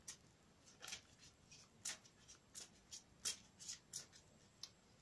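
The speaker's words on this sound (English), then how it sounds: "I'll give it another quick shuffle on camera for you." A deck of tarot cards being shuffled in a series of quick riffling bursts, close and fairly quiet, with no voices.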